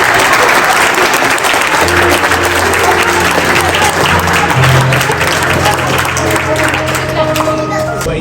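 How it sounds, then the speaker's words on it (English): Loud, dense applause from a large audience at an awards ceremony, sustained for the whole stretch and close, with crowd noise and a low hum of music underneath. "If you clap for him real loud, he might lend you his chain."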